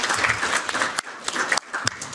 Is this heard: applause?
yes